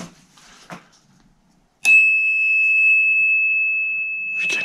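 An electronic bicycle bell on a mountain bike cruiser rings with a sustained bright tone, sounding once loudly after a few quiet rustles and fading slightly before a second ring begins.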